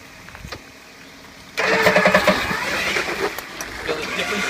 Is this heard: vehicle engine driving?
yes